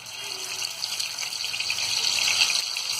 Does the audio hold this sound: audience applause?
no